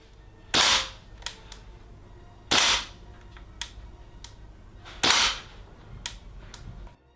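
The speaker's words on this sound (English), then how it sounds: "you can see me struggle to fire the MP5" A VFC HK MP5A5 gas blowback airsoft rifle fires three loud, sharp single shots at close range, spaced about two and a half seconds apart, with faint mechanical clicks between them.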